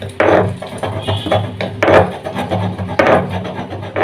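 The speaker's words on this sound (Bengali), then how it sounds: "তো আমি এটা শিলে বেটেই বাড়িতে রান্না করি" Ginger and garlic are ground into paste on a stone slab, heavy rhythmic rubbing strokes of stone on stone scraping back and forth in repeated close, loud bursts.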